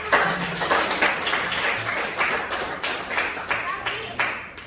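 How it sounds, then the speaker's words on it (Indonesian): A group claps hands during an Indonesian teacher-training session, a run of loosely rhythmic claps in several bursts at moderate loudness, with some speech underneath. "Ini tepuk tangan."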